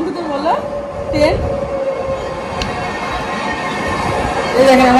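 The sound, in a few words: train passing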